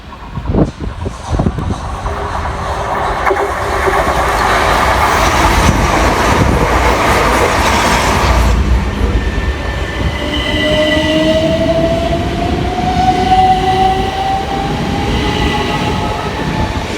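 A twelve-car train passes at Merstham station, starting with sharp clanks, then a loud rumbling roar of wagons rolling by before easing into rising wheel squeals and hum as it slows.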